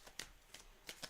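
A deck of tarot cards is shuffled in a series of soft, close riffles, four or five brief flicks spaced irregularly, quiet and alone without any talking.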